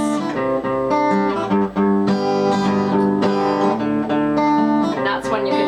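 An acoustic guitar is strummed in a pattern of six downstrokes then an upstroke, with full chords ringing in a steady repeating rhythm. It is close and continuous, with no talk over it.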